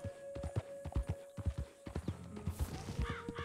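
A horse in Red Dead Redemption 2 trots with quick, evenly spaced clip-clop hoofbeats, close and distinct over soft game ambience, and a brief whinny-like tone comes near the end.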